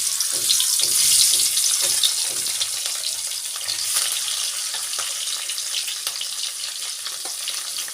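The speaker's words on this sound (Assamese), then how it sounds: "তেলখিনি গৰম হোৱাৰ পিছত মই মাছকেইডোখৰ ইয়াত ফ্ৰাই কৰি ল'ম।" Fish pieces frying in hot mustard oil in a pan, a steady bright sizzle that crackles close and loud throughout, with no talking.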